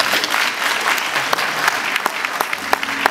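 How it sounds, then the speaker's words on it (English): Loud, close audience applause for an honoree at a Long Island cultural gathering, with some sharp individual claps standing out and a low voice creeping in toward the end. "let's give him a round of applause right now"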